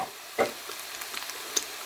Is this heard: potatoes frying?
yes